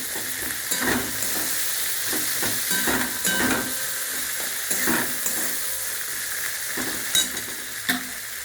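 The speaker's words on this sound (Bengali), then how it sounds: "আর দেবো ওই টমেটো কুচি। একসাথে দিয়ে আবারও কষাবো।" Ginger-garlic paste and chopped tomato frying and being stirred in a pan for a lentil and meat curry, a steady sizzle broken by repeated scraping strokes of a spatula throughout.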